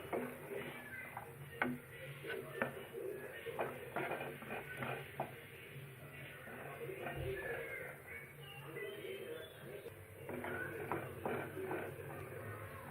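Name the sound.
green peas being added to cooked masala in a pan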